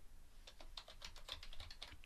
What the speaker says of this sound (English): Let's type in a little bit of text here.